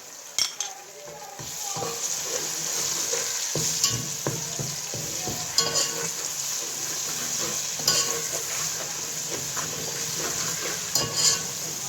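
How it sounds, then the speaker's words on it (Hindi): Ginger garlic paste sizzles and fries in a hot pan while a utensil stirs and scrapes against the metal, with occasional clinks. "अब इसमें मैं डालूंगी लहसुन अदरक का पेस्ट।"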